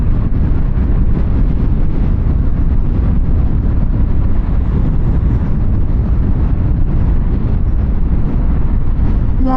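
Wind roars and buffets steadily on a 2024 Harley-Davidson Sportster S cruising at around 64, a loud, unbroken low rushing noise with no talking.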